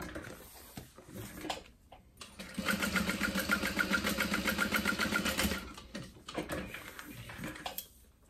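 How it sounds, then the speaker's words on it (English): A sewing machine runs in a steady rapid burst of stitching across an open seam for a tote bag, preceded and followed by short starts and pauses, close and clear with no talk. "sew across either side of that open seam."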